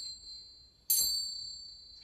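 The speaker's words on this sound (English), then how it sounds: "And these are finger cymbals." A single bright strike of small finger cymbals, a sharp metallic ding that rings on with a sustained high shimmer and slowly fades, heard close and alone.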